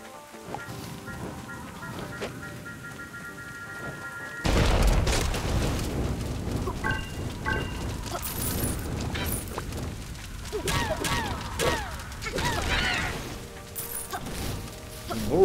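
A bomb going off in the video game The Swords of Ditto, a sudden loud blast that lands partway through and is followed by scattered crashes and clattering game effects.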